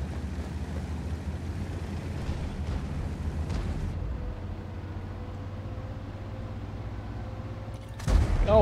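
In World of Tanks, a tank's engine rumbles steadily for several seconds before a sudden loud, heavy blast near the end as a gun shot strikes a friendly tank.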